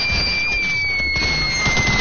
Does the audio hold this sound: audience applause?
no